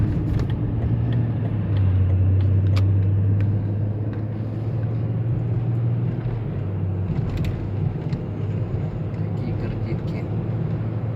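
Car travelling the road from Bishkek to Jalal-Abad in Kyrgyzstan, heard from inside as a steady low engine and road rumble with a droning hum, a voice speaking over it at times.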